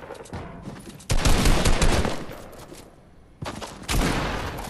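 Bursts of rapid gunfire in two dense volleys separated by a brief quieter gap, loud and close with crackling sustained fire.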